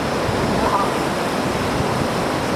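A river in Nepal rushes in a loud, steady roar of flowing water that fills the clip without a break.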